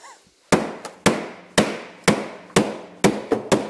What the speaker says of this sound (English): So with a little tap, I'm hoping they're going to come out.